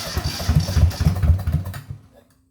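A restored tractor engine cranks in a rapid, uneven chugging burst for about two seconds as it tries to fire, then the sound cuts off into near silence.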